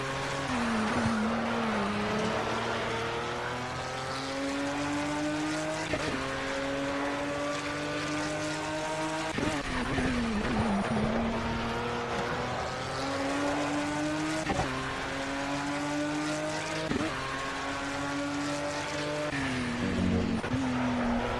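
Marek RP 219D LMP2 prototype from Project CARS drives hard, its high-revving engine rising and falling through repeated gear changes over twenty seconds, loud and close with no speech.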